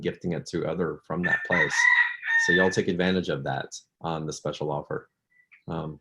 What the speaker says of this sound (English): I'm going to put on my headphones so that you don't hear the roosters in the background